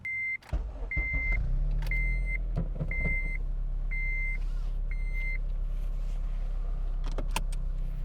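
A modified 8th-generation Honda Civic Si rumbles at a low, steady engine drone from inside the cabin while a warning chime beeps six times in an even rhythm.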